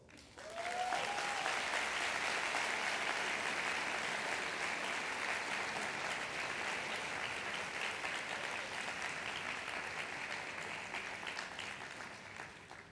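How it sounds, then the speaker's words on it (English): A graduation ceremony audience gives a sustained round of applause, dense and continuous clapping from a large crowd lasting over ten seconds, slowly tapering, with no speech over it. "Let's give these three groups of people a round of applause."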